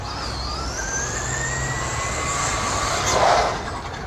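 A Traxxas Slash 2WD electric RC car runs at half power, its motor whine climbing steadily in pitch over a low rumble and swelling louder as it passes near the end.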